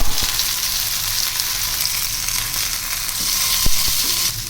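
Sardine fish coated in masala fries on a stone pan, giving a loud, steady close-up sizzle and crackle throughout with no talking.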